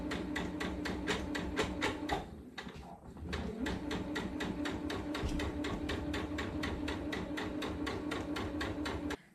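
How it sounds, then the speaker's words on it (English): Sewing machine running a default-length straight stitch through fabric pieces, with a fast, even, close-up mechanical clatter, broken by one brief slowdown before resuming steadily. "I'm just going to sew these two pieces together in this kind of rectangle."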